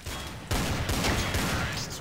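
Rapid gunfire in the video game Counter-Strike: Source, a dense, loud burst of repeated shots starting abruptly and continuing for a couple of seconds, with no talk over it.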